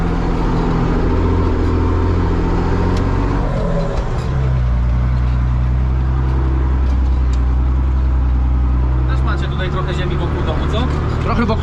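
A Renault tractor engine drones loudly and steadily as it drives into wet, muddy farm terrain, with a low rumble throughout and voices talking over it.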